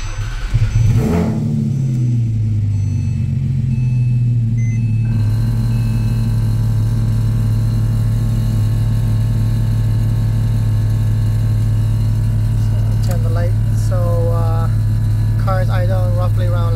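A Porsche Cayman 987 engine idles steadily at roughly 700 RPM with a low, even hum throughout, close and constant, with a brief rev near the start and faint background sounds near the end.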